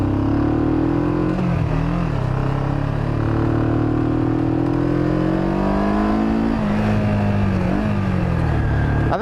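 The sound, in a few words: Kawasaki Vulcan 500 motorcycle engine lugging while riding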